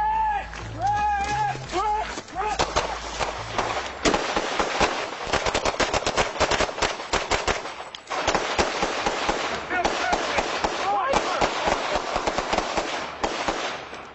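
Sustained bursts of gunfire, loud and close, with rapid repeated shots that break off briefly around the middle and then resume, while voices talk and shout underneath.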